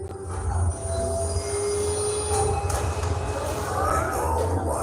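Train ride in an advertisement: a steady low rumble of wheels on rails with faint squealing tones, constant and fairly loud throughout, no speech.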